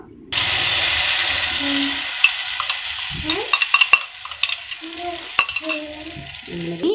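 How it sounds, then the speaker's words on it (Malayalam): An egg and tomato mixture hits a hot pan with a sudden burst of sizzling, then a spatula clatters and scrapes against the metal in quick irregular knocks. "നേരത്തെ തയ്യാറാക്കി വെച്ചിട്ടുള്ള മുട്ടയുടെ മിക്സ് ഒഴിച്ചു കൊടുക്കാം"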